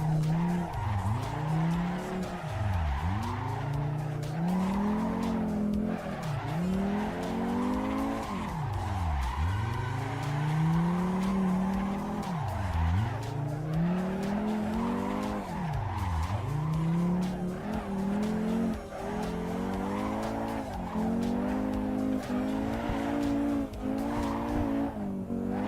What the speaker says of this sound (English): This feels like real drifting to me.